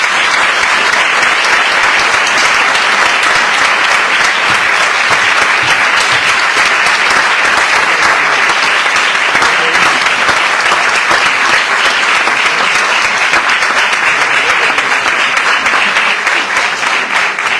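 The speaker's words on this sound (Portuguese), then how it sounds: "Uma salva de palmas, por favor." Sustained, dense applause from an audience at a book launch for the centenary of a volunteer firefighters' humanitarian association, loud and steady for the full length with no break.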